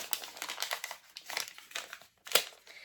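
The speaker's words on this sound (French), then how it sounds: "On déchire, on déchire." Paper packaging from an advent calendar box is torn and crinkled open by hand in a string of close, crisp rips and rustles, with a brief pause before one last sharp tear.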